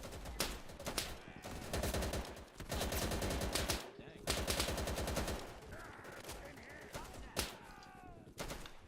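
Gunfire rattles through the World War II shooter Easy Red 2 on a custom Southern France map, with dense automatic bursts and single shots continuing almost without pause, loud and close, with brief gaps and faint speech underneath.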